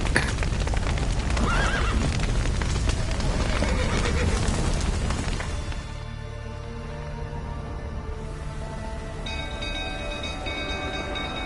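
Horses neigh and whinny with hooves clip-clopping in The Witcher 3 video game, loud and busy at first, then thinning into a quieter stretch with a steady tone.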